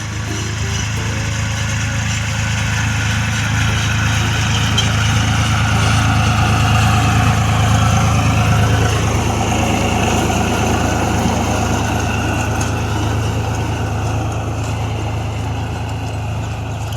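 A farm tractor idles loudly and steadily beside a field being ploughed for ajwain and dill. Its deep, constant engine hum carries on without a break, with no voices.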